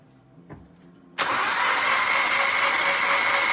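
An Audi A3 3.2 engine running on ethanol with new spark plugs fires for its first start-up after a faint click, then settles at once into a loud, steady idle that fills the rest of the clip.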